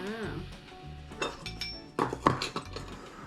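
A utensil clinks and scrapes against a bowl while donut dough is mixed, with quiet taps and a cluster of sharp knocks near the end, and a voice speaking over it.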